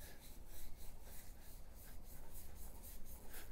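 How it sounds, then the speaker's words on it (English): Sanding pad scrubbing rust inside a tube on a Toro Z Master 4000 commercial zero-turn mower, a steady close rasping rub with rhythmic strokes throughout, no talk. "I'm going to be using the sanding pad here."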